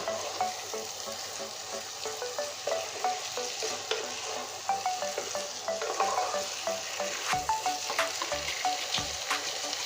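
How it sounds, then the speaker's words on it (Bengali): Fish fries in a pan with a constant crackling sizzle while a utensil stirs it in a steady run of light, regular scrapes and taps. No one talks. "এবার বাইট মাছ তো পরে গেছে এবার সুন্দর করে নেড়ে দিচ্ছি"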